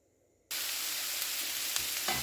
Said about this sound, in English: jackfruit is sizzling away